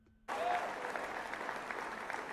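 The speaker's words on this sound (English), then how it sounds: "you don't even know why you're applauding." An audience breaks into sudden, steady applause that carries on evenly at a moderate distance after a quiet start.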